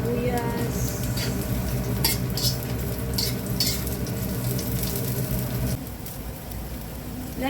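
Garlic and onion fry in a pan for a chicken liver dish, a steady close sizzle with scraping stirs and occasional utensil clinks against the pan. The sizzle drops lower near the end.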